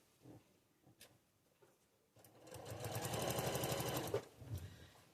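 Sewing machine stitching a foundation paper pieced snowflake quilt block: a few soft clicks and handling sounds, then a rapid mechanical run of stitches for about two seconds, followed by quieter fabric shuffling.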